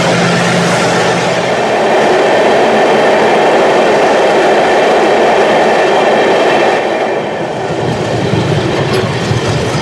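The Sairang Express, train 13126 on the hill route to Mizoram, runs loudly along the rails with a steady roar and rhythmic clickety-clack from the wheels, heard close up from inside the train with no talk.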